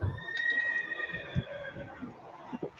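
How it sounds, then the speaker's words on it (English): Horses neighing and whinnying inside a building, several drawn-out calls over a low, steady indoor rumble, with a few soft thuds of movement between them. "you can hear the horses that are in there already"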